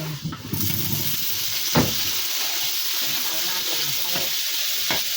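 Sliced sausages frying in a pan, a steady bright sizzle throughout with a few sharp scrapes and stirs, starting with some clatter before settling into continuous close hissing.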